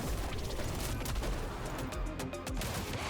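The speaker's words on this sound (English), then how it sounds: "Her gunshots feel like they're going to be really good" Dense, overlapping gunfire from Elsa Bloodstone's double pump shotgun in Marvel Rivals, a continuous busy barrage of blasts with no clear pauses between shots.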